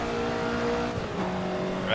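A Ferrari 288 GTO engine in Assetto Corsa holds a high, steady rev around 7,000 rpm, then its pitch shifts as a gear change into fourth comes through, loud and continuous with no talking.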